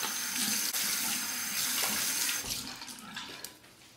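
Hot water pours steadily from a tap into a basin during a shave, a broad splashing rush close up that thins out and fades toward the end.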